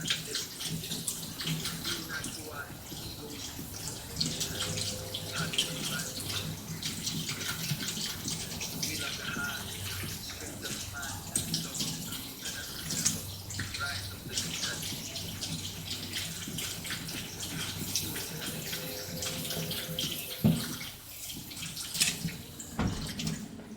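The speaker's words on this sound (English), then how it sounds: "Straining this under cold water just to kind of shock, cool them, stop them from cooking" Cold tap water runs steadily over blanched peas and basil in a kitchen strainer, a continuous splashing rush that lasts throughout, with small clatters near the end.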